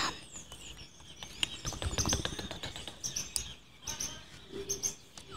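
Birds chirping outdoors in nature, with many short bright calls and tweets overlapping at varying distances, fairly close and lively, with a brief flutter of wings.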